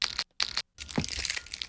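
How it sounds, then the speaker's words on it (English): Packing tape on moving boxes gives two short ripping bursts separated by brief silences, then a longer crackling, crinkling pull of tape, close and fairly loud with no speech. "You can get a lot out of moving boxes and tape"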